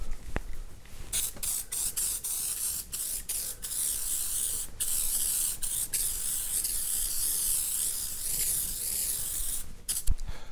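A YOU CAN refillable spray can sprays paint in a loud, steady hiss that runs almost unbroken, with a few brief stops and restarts and a sharp click near the end.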